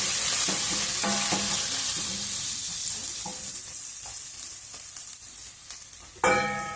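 Ginger garlic paste, with turmeric, fries in a pan for a gongura chicken curry, giving a continuous sizzle broken by scraping stir strokes. The frying gradually quietens, then a sudden louder sizzle bursts in near the end.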